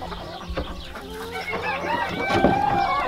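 Chickens cluck and a rooster crows nearby, the crowing rising loud toward the end over softer clucking.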